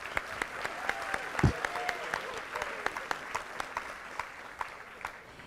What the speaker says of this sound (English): Let's give everyone from Hillside another round of applause